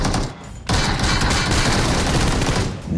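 Loud, dense burst of automatic gunfire in PUBG Mobile, a rapid continuous volley filling nearly the whole moment after a brief lull at the start.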